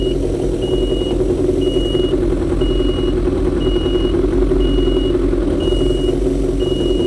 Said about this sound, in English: there the alarm went off because it can tell that the battery is not charging